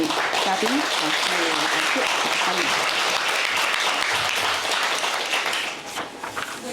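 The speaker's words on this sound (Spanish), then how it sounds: "Un aplauso muy fuerte para los 5." A dense wash of audience applause for invited Chinese writers at a literary event, loud and sustained for several seconds before thinning out near the end, with a voice speaking faintly underneath.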